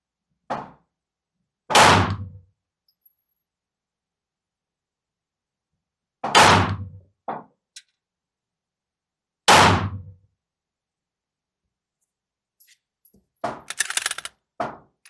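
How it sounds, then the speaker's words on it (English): Three sharp pistol shots fired one at a time with pauses between them while zeroing a pistol optic, each a loud close crack with a short decay, followed by faint handling clatter near the end. "let's go and get ourselves another 3-round group"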